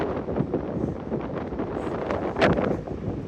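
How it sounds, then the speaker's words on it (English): Strong gusting wind of a big storm buffets the microphone on an exposed cliff-top campsite, a continuous rough roar that swells briefly louder near the end, with no talk. "It's windy as heck. Yes. Big storm."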